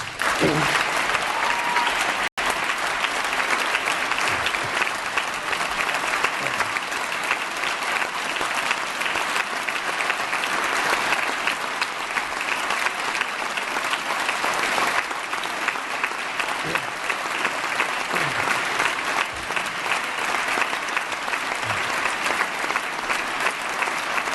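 A large audience at California Governor Jerry Brown's 2017 State of the State address claps in sustained, dense applause that holds at an even level for over twenty seconds.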